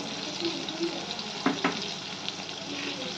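Ground red chilli, turmeric and cumin with tomato sizzle steadily in a hot pan while being sautéed for a vegetarian raw banana curry, with a few brief scraping stirs midway.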